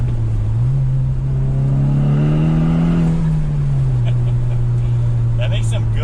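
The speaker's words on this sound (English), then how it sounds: "Let's see if we can hear any of the exhaust noise with the window down a little bit." Car exhaust booms and rises as the engine accelerates with the window down a little, a loud steady drone climbing in pitch then settling, close and continuous, with a voice talking over it.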